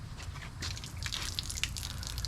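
Fuel injector from a turbo Jeep spraying liquid into water, giving a soft continuous hiss with scattered spattering droplets, close and moderately quiet.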